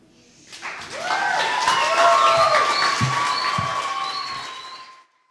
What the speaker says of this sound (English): please give another wonderful round of applause for Anela